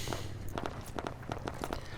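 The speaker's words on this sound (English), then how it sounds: "And then I hear footsteps." Footsteps in the ARMA 3 video game: a quick run of soft, evenly paced steps lasting about two seconds, fairly quiet, over a constant low background rumble.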